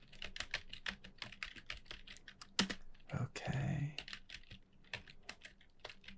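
Close, quiet typing on a computer keyboard: a run of irregular key clicks with a brief louder clatter partway through, alone without talk.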